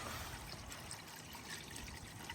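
Liquid poured in through an opened blue cap, a steady, faint trickling wash of water with no voices.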